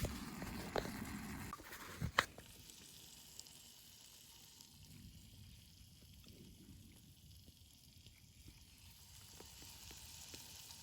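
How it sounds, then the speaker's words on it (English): Fajita filling sizzling in a camping mess tin outdoors at night, a steady soft frying hiss held for several seconds after a couple of sharp clinks of stirring near the start, close but quiet. "I'm just going to give these a stir about and then they don't stick to the bottom at mess tin"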